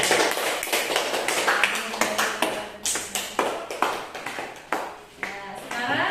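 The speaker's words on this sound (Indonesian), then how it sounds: "Oke, beri tepuk tangan untuk kelompok 3." A classroom group claps for Group 3 in a series of brief, uneven bursts of hand claps and taps, loud and close, with short pauses between them.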